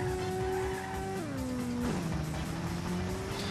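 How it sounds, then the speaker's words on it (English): A race car in Ridge Racer Type 4 drifts through a corner, its engine note dropping in steps as a loud, sustained tire squeal takes over. "And of course it wouldn't be Ridge Racer without completely insane drift"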